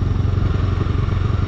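A Bajaj Dominar motorcycle rolls slowly, its engine a loud, close, low throbbing putter with a steady rapid pulse and faint clatter, no voices over it.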